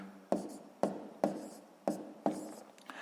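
Pen writing numbers by hand on paper for a sixth-grade math exercise: five quiet, close scratching strokes in an even rhythm, each a short scrape tapering off.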